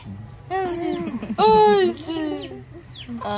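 Farmyard chickens being fed in the morning give a few close, loud, drawn-out clucks and squawks in quick succession, with a soft background hum.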